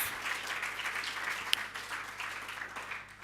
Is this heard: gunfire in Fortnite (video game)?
no